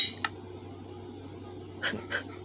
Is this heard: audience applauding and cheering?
no